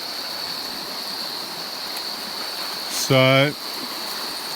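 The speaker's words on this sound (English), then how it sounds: "I thought I'd bring you down the river to finish off the video for today." Goulburn River flows steadily nearby, a continuous broadband rush at moderate level, briefly interrupted by a single short spoken word.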